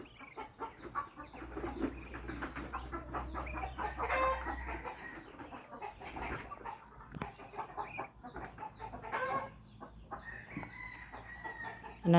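Chickens clucking in a backyard, several birds giving repeated close clucks and short calls over a low steady background hum, with a brief loud bump at the end.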